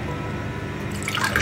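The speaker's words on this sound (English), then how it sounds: "I'm gonna add in some water here" Water is poured in to make coffee, giving a soft, close, steady trickle and splash that brightens toward the end of a short pour.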